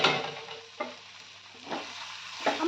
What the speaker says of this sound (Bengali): আমার মশলাটা কষা প্রায় হয়ে গেছে